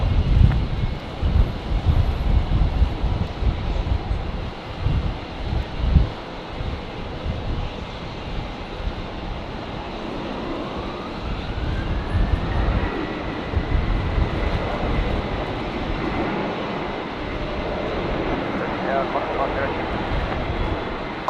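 A Qantas airliner departs runway 19 left at Brisbane Airport on a windy day, its jet roar building steadily from a distance under gusty wind noise, with a rising engine tone midway.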